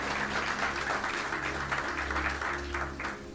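A church congregation claps in a steady, dense round of applause at moderate distance, with a low hum beneath it that fades slightly toward the end.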